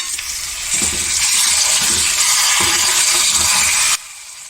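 Chopped tomatoes with salt and turmeric sizzle loudly in a hot pan for a ladies finger (bhindi) fry, a steady bright frying hiss that runs about four seconds before dropping to a quieter simmer.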